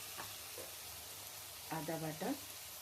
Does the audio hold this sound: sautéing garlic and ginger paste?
yes